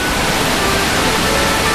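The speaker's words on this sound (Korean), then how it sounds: "시원한 폭포 소리가 들리세요?" A waterfall rushes with a loud, steady, unbroken roar of falling water, heard alone at close range.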